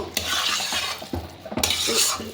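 Fried nuts being stirred into a vegetable chop mixture in a pan, several close scraping and clattering strokes of a spoon with a light sizzle beneath.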